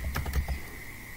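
Keys clatter on a computer keyboard as a short burst of typing enters a web search, several quick close taps in the first half second then a faint steady hum.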